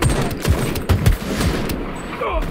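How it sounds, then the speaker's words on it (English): Gunfire in the shooter game Shatterline, a sniper rifle shot among a loud barrage of booming and sharp reports, with a voice speaking over part of it. "Sniper shot."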